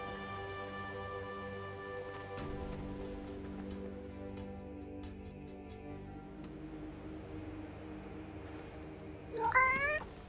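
A cat in the video game Forspoken gives a single short meow near the end, rising clearly above steady game ambience and music.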